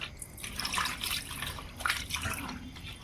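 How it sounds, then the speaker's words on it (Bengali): Water poured over small freshwater puti and khalisa fish to rinse them, a steady close splashing and trickling wash with no talk. "ঘষে নিয়েছি জল দিয়ে দিচ্ছি"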